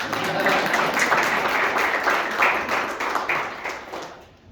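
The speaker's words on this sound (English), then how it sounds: "can I ask folks to actually clap for Karen?" An audience applauds Karen Santilli, President and CEO of Crossroads, at a city administration event on the homeless crisis: dense, steady clapping from many hands that holds for several seconds, then tapers away at the end.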